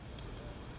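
One faint, crisp click from a Rotring 600 metal mechanical pencil being pressed, alone against quiet room noise.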